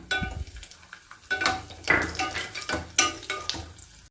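Cashews and raisins frying in hot ghee in a pan, heard as close, irregular sizzling bursts with light metallic stirring and clinks, rising and falling in short strokes.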